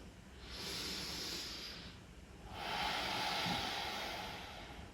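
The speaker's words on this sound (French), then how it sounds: "On prend 3 respirations ici." Two slow, deep breaths during a seated chair yoga session, each a long, soft airy hiss rising and fading, close and quiet with a brief pause between them.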